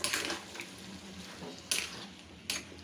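Chicken frying in a pan with a little dry chili powder, stirred as it cooks: a steady soft sizzle runs throughout, broken by a few sharp scraping strokes of the stirring utensil against the pan.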